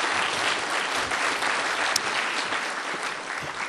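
Audience at a spring mathematics graduation ceremony giving a nominee a steady round of applause: dense, even clapping filling the room throughout, with no talking over it.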